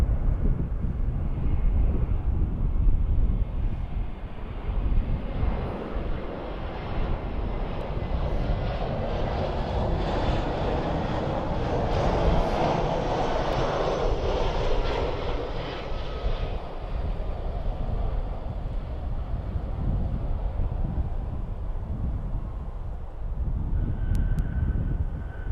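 An EasyJet airliner roars past at Birmingham Airport, a broad, loud engine rumble that swells and fades over about twenty-five seconds. Wind buffets the microphone throughout, and no one speaks.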